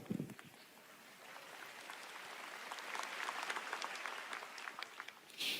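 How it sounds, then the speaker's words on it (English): Audience applause at Nvidia CEO Jensen Huang's GTC Taipei keynote, a fairly faint, steady spatter of clapping from a large hall that swells slightly toward the end. "A round of applause for math."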